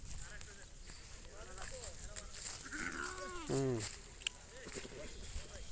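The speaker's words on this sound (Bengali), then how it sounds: "বিশাল এক ভেড়ার পাল" A large flock of grazing sheep bleats several times, some close and loud, others fainter, over steady outdoor background noise.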